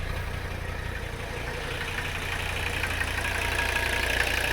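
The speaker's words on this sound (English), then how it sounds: "I think I'm pretty much just going to leave it idling." Mercedes 300CD diesel engine idling steadily, a continuous close rumble with a rough, slightly knocking texture that holds at an even level throughout, with no talking.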